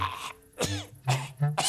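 A cartoon cowboy from Lucky Luke coughs and clears his throat in a rapid run of harsh, close hacking bursts, about four fits in under two seconds.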